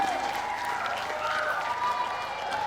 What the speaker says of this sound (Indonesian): boleh kita berikan tepuk tangan yang meriah Bapak dan Ibu